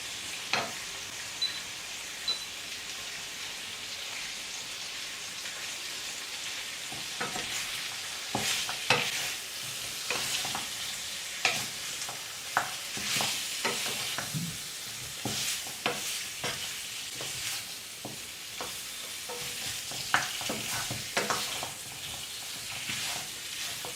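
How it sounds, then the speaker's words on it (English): Sliced ginger, garlic and scallion stir-fried slowly in a wok while cooking braised ribs, a continuous sizzle broken by frequent spatula scrapes and clacks against the metal, close and without talk. "add the sliced ginger, garlic, and scallion. Again, stir them slowly in the wok."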